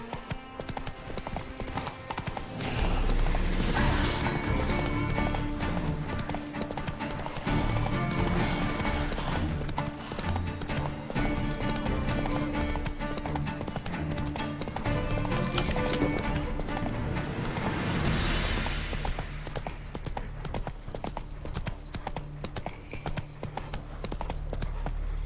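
In The Witcher 3, the horse Roach gallops with loud, rapid hooves clip-clopping in a continuous rhythm. Bursts of movement come and go under a game soundscape, with no speech.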